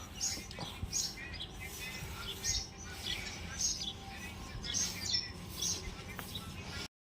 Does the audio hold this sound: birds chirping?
yes